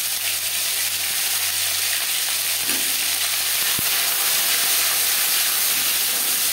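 Ginger paste and green chili paste hit hot refined oil with bay leaf and five-spice seeds for a no-onion cabbage curry, giving a steady, close sizzling hiss that runs evenly throughout with no voices.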